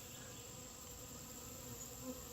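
Honey bees hum steadily around a healthy hive free of varroa mites, a dense, continuous buzz of many insects close by with no talking.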